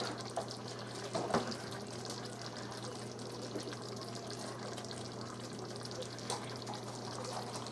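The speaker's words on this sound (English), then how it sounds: "I'm going to pour it into a 2-cup container" Boiled water runs steadily into a 2-cup container, a continuous low splashing trickle with faint clinks, heard up close at a quiet level.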